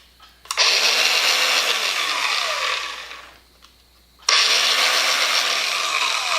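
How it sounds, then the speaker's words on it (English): A Bauer 4.5-inch cordless brushed angle grinder on a 1.5 amp hour battery spins up with a sharp whine, winds down over a few seconds, then is triggered again to full speed, loud and close. "This is a cordless angle grinder."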